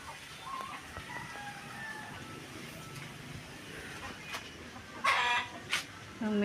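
A hen clucks and cackles outdoors after laying an egg, with loud bursts toward the end over steady background noise.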